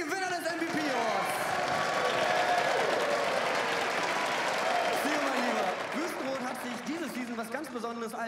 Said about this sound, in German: einen ganz großen Applaus von der ganzen Halle